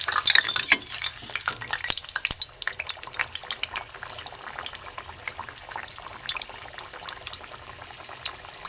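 Pea kochuri dropped one by one into hot oil in a kadai, setting off a dense, steady crackling sizzle with scattered sharp pops that carries on throughout.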